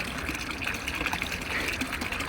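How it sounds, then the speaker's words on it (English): Steady gush of water pouring from the spout of a street drinking fountain in Rome's Prati district, a continuous close splashing flow without talk. "you can drink out of it like a water fountain"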